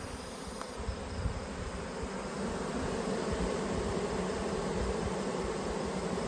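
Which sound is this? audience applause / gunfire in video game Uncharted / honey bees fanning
honey bees fanning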